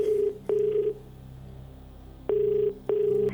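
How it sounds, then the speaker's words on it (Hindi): Two pairs of long steady dial tones on a telephone line, each broken by a brief click, with a quiet pause between, as a call is placed from a television quiz show studio. "कबीर जी नाहिदा अख्तर को फोन लगाइए जम्मू में"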